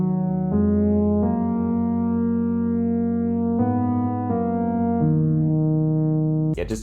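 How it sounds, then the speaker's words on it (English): A sustained synth pad from Sky Keys called Right Tones layers over guitar, holding warm chords that shift every second or so, steady and fairly loud, ending in a brief burst of noise. "I layered the guitar with a pad from Sky Keys, which is called Right Tones, and sounds like this."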